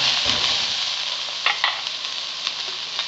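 Onions sautéing in cooking oil in a pan for pork dinuguan, a steady bright sizzle with a few sharper crackles and stirring scrapes, close and continuous.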